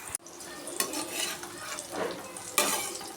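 Asafoetida and lentils sizzle and crackle in a hot pan for bitter gourd pickle, with a few sharp clinks and scrapes of a spoon stirring, fairly quiet and close.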